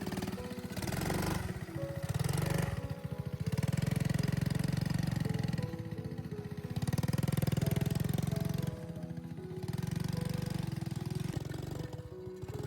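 A motorcycle engine drones steadily while riding on the road from Islamabad toward Kumrat Valley. Its throbbing note swells and eases in long waves as the throttle changes, close and continuous, with no talking.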